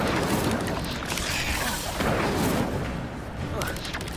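Incendio fire spells are cast in the video game Hogwarts Legacy, sounding as repeated booming bursts of flame over a busy, noisy game mix, with a voice speaking between them.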